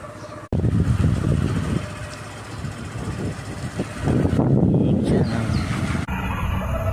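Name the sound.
motorbike engine running during a ride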